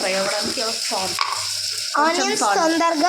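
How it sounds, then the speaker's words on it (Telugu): Chopped onions fry in a hot pan while being stirred for a chicken curry, giving a steady close sizzle throughout with bright, tonal, music-like sounds layered over it. "ఆనియన్స్ గోల్డెన్ బ్రౌన్ అయ్యేంత వరకు మనం కలుపుకోవాలి"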